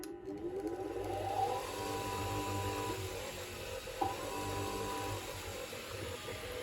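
A Clarke CBG8W 8-inch whetstone bench grinder with a faulty rocker switch runs briefly, giving a steady motor whir and hum with a small click partway through.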